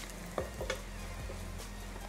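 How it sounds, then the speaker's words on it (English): Curry powder of cumin and coriander fries in oil with a steady close sizzle, broken by a few soft stirring scrapes in the pan. "We're just gonna fry this up here in the oil."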